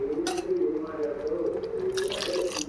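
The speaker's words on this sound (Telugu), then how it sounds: "చుక్క పడుతాయండి వాటర్." Water drips and pours into a pan of simmering Andhra-style egg curry, with short splashy bursts near the start and end over a steady low hum while someone talks.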